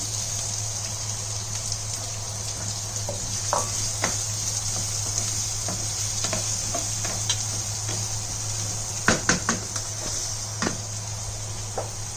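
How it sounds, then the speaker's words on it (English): Cashew nuts and whole spices such as cardamom and cinnamon fry in oil in a pan for kheema fry. A soft, steady sizzle with scattered crackles runs over a constant low background hum. "Cashew nuts will fry along with the onion also, so we will add onion."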